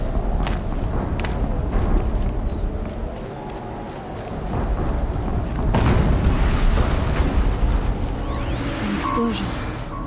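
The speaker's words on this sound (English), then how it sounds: "An explosion." Explosions in the video game Horizon Zero Dawn: heavy booming blasts over a dense, rumbling game soundscape, with a loud surge near the middle and crackling debris toward the end.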